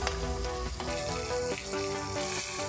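Shallots and coconut sauté in a hot pan, giving a steady close sizzle throughout while music plays over it.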